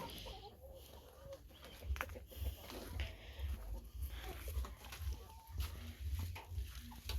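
Chickens cluck and murmur softly in the distance amid faint outdoor background noise, scattered calls rising and falling over several seconds.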